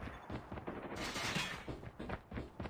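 Sniper gunfire in the Call of Duty video game: a dense stretch of sharp shots and blasts, loud and continuous, with overlapping reports and no clear pauses.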